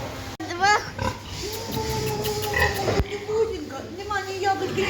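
Pigs grunt and squeal close by in a series of short, varied calls, with people talking faintly in the background.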